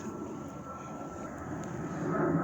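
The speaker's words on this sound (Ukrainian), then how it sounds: "Вгорі літають самольоти." Airplanes flying overhead outdoors, a steady broad low engine roar that grows slightly louder toward the end, with no talking.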